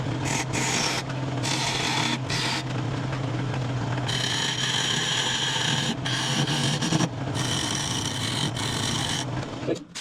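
A wood lathe spins while a tool cuts a tenon on a large wooden salad bowl, giving a continuous close scraping hum with shifting bursts of hissing shavings as the cut comes and goes.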